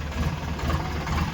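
A tractor engine idles nearby with a steady, rough low-pitched chug and vibration, heard alone for a short stretch.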